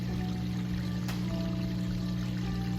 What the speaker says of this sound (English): You can hear it draining the water out.